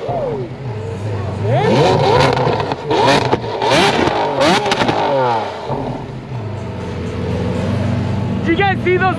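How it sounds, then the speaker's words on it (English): Powerful Lamborghini engines revving repeatedly, rising and falling roars close by, loud and overlapping, with people talking faintly underneath. "I'm surrounded by revving Lambos."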